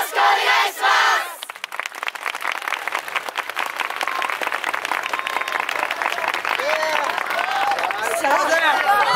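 A festival crowd at the 2019 Kyoto Sakura Yosakoi claps and roars for the Kyoen Sodefure Odorittsu dance team. Dense, loud applause runs with rhythmic shouts, and a brief voice and music open the moment.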